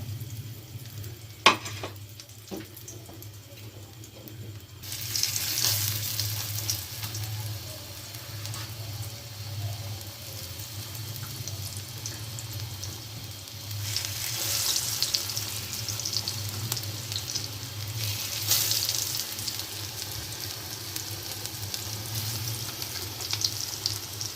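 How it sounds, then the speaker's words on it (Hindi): Potato tikki shallow frying in hot ghee on a tawa gives a soft, steady sizzle that swells louder at moments, with a few light clicks early on. "आप इसको तवे पे इसको शैलो फ्राई करेंगे।"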